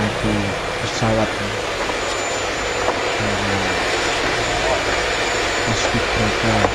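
An aircraft engine roars steadily at a flag-raising ceremony in the capital Nusantara, a continuous loud whine with faint voices and commands breaking through.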